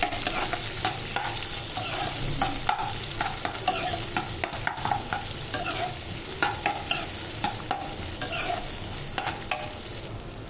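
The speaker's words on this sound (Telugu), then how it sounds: "ఇప్పుడు ఉల్లిపాయ వేసుకొని ఉల్లిపాయ బ్రౌన్ కలర్ వచ్చేంత వరకు వేయించుకోవాలి" Onions frying in a pan until brown, a continuous loud sizzle broken by frequent scraping stirs and small knocks of a spoon on the vessel, with no voices.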